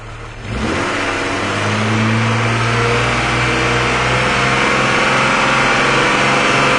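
A 2004 Jeep Cherokee engine revs up sharply from idle and holds a loud, steady high-rpm drone for several seconds, close to the engine bay with no one talking.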